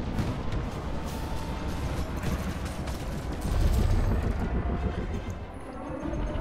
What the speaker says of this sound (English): just look at these large multi-cannons just melt his hull away.